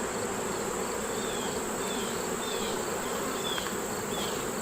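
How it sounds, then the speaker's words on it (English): A dense, steady drone of many honey bees buzzing close by, constant and unbroken with a faint high whine above it. "that's a lot of bees."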